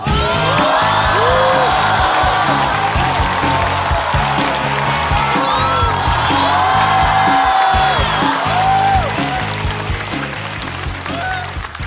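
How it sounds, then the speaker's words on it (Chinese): A crowd applauds and cheers loudly and continuously, with whoops rising over the clapping alongside a pulsing musical backing. "掌声有请"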